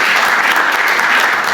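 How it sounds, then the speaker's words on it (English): A congregation at an Easter church service claps in a brief, dense, loud burst of applause, steady throughout with no talking. "Give her a round of applause."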